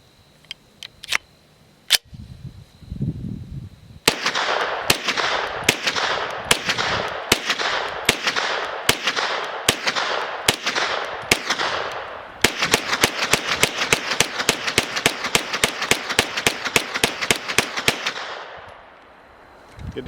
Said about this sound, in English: this is the first shots with the curved magazines. We're just going to shoot some ball ammo first just to try it out